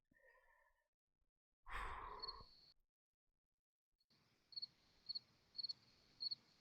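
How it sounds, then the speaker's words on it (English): Crickets chirp faintly in short repeated bursts against a quiet night background, following a brief breathy rush of sound. "Listen to beautiful crickets."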